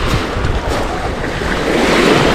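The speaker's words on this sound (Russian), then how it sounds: "В очередной раз начинаю показывать вам море прежде всего" Sea waves roll in at the central beach of Lazarevskoye in Sochi in the morning, a close, continuous wash of surf with wind rumbling against the microphone and no voices.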